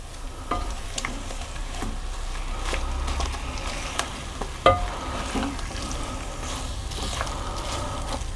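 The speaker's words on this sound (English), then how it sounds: "I'll put the sultanas in as well and give those a little bit of a toss around." Apples and sultanas tossed in a frying pan, a steady close sizzle under scattered scrapes and light knocks of the pan as the fruit is moved around, with no talking.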